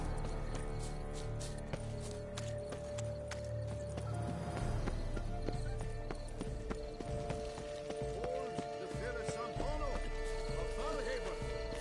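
Horse hooves clip-clop steadily in The Witcher III: Wild Hunt (Blood and Wine), a rhythmic trot under game music and ambience, with occasional whinnies and brief character voices mixed in.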